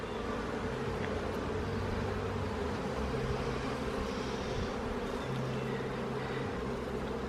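Honey bees hum steadily during a beehive inspection, a dense continuous drone with no voices, close and even in level throughout.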